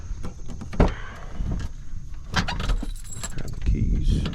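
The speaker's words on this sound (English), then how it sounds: "Grab the keys." A set of keys jangles and clinks close by, in quick handling bursts, as someone gets ready to start a small Chinese-made mini skid steer loader.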